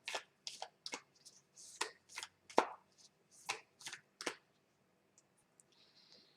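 An oracle card deck being shuffled by hand, with a series of quick crisp riffling bursts in an irregular rhythm, close and fairly quiet with short gaps between them.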